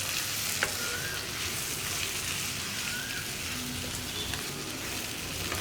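Eggs sautéing in spiced masala in a pan for a creamy egg curry give a steady, dense sizzle that fills the whole stretch, close and even, with a faint scrape or two of stirring and no voices.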